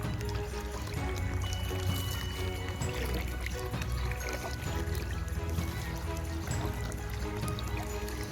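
Water spills steadily over the rim of a cattle drinking trough in a garden, a continuous loud splashing and pouring flow that stays even throughout.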